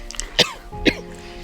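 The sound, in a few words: coughing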